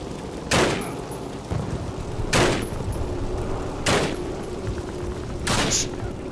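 Call of Duty gunfire: four loud, sharp shots ring out a second or two apart over a steady rumble of battlefield background.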